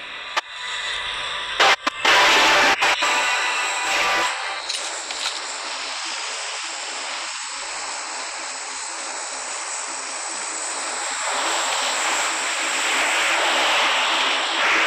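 Airplane engine in PUBG drones as a steady, loud broadband roar through the whole stretch, with a few sharp clicks and bursts early on and no talk over it.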